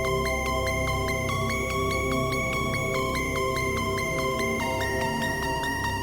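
A synth arpeggio melody from an Electra X synthesizer in a hard drill beat, bright repeating stepped notes playing steadily over sustained pad tones, no voices.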